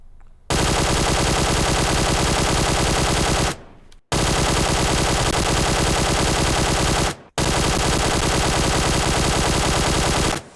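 Sustained automatic rifle fire with an angled foregrip in PUBG Mobile, three long unbroken bursts, loud and close, separated by brief pauses.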